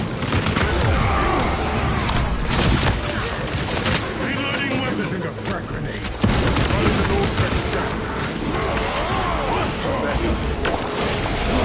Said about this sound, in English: Using a frag grenade.